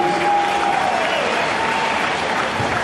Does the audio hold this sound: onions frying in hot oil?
no